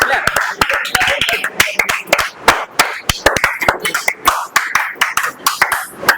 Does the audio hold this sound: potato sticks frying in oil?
no